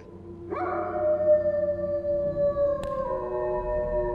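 A dog howls alone in one long, loud, sustained call that rises at the onset and then holds a steady tone before tapering, with no talk over it.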